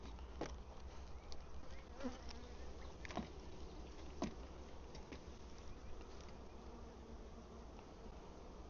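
Honey bees buzz around frames at an open hive, a steady low drone with occasional individual insects passing close, set against faint background ambience.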